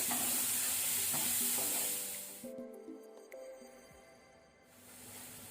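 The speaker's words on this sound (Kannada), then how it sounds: "ಈಗ ನಾವು ಟೊಮ್ಯಾಟೊವನ್ನು ಸಹ ಮೀಡಿಯಂ ಫ್ಲೇಮ್ ಅಲ್ಲಿ ಸಾಫ್ಟ್ ಆಗೋ ತನಕ ಫ್ರೈ ಮಾಡಬೇಕು." Tomatoes frying over a medium flame for Andhra chicken curry give a steady broadband sizzle that fades partway through as stirring clinks and scrapes take over, then the hiss swells back at the end.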